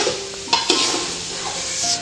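Ghee added to gajar ka halwa in a pan, heard close as a steady sizzle with a few clinks of a utensil against the pan and some stirring.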